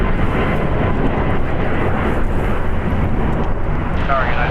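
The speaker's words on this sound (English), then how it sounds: "Departing here is Alaska Airlines 1388 going to San Jose del Cabo. A Boeing 737 MAX 8" A three-year-old Alaska Airlines Boeing 737 MAX 8 departs LAX, its engines giving a steady, loud broadband roar that holds level throughout, with a faint higher whine near the end.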